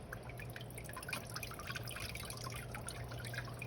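Water dripping and trickling softly while Hoya plants kept in a small humid greenhouse are watered, faint scattered drips over a low steady background.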